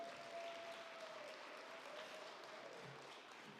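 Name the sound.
audience round of applause at church book launch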